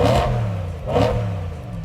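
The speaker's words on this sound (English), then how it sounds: "Let's hear the E92." Naturally aspirated V8 of a BMW E92 M3 revs twice in quick succession, each throttle blip rising to a loud, close snarl before settling back to a steady idle rumble.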